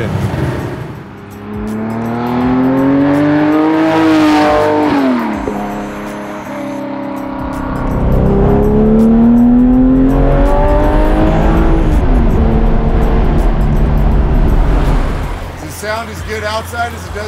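A Porsche 964 restomod engine revs hard while driving, its pitch climbing and falling through several rising sweeps with loud, close intake and exhaust roar, and people talk briefly inside the car.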